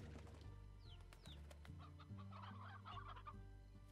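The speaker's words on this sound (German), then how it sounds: "Oh, ich sehe gerade, da sitzt noch ein Hahn." A rooster clucking in the video game Slime Rancher, a run of soft, close clucks over a low droning in-game music bed with light chirpy effects.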